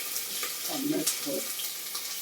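Hot oil in a cooking pot sizzles with a soft, steady hiss as ingredients fry for a dish of pig's trotters with carrot, chorizo and minced meat, close up and fairly quiet.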